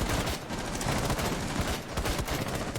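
Rapid gunfire rattles through a Rainbow Six Siege match, dense overlapping bursts and shots firing nonstop in quick rhythmic clusters, loud and close.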